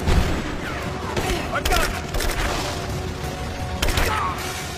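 Loud, dense bursts of explosions and booming blasts in Rise of the Tomb Raider follow one another amid continuous clattering noise, with a voice talking over the chaos.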